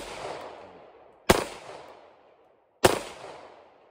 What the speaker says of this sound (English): let me shoot the further away tree